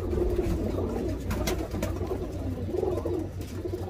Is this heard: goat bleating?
no